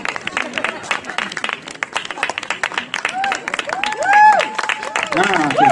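An audience applauds at a film festival opening event, a busy patter of many hands clapping close by, with an announcer's voice rising over the clapping toward the end.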